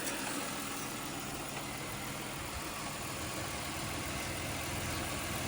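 A Chevy Impala engine from the 2006 to 2016 model years idles steadily just after a cold start, a faint, even hum and rumble with no talk over it.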